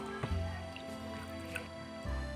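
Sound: washing flattened rice (chira) in water

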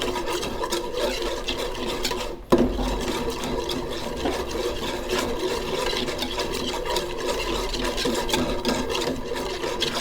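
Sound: stirring homemade tomato paste in a pot

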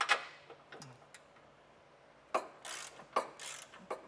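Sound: ratchet with 18 mm socket removing bumper stud nuts on Jeep

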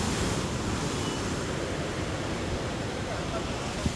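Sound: sea waves at Jeongdongjin beach

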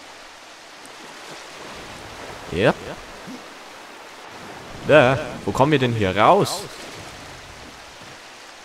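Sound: flowing water of a stream in video game Darksiders 2

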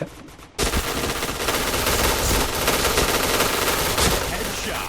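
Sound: gun firing in the video game Point Blank

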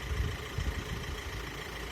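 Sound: Volkswagen Crafter van engine idling

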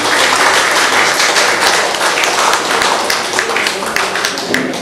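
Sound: audience applause at a retirement function

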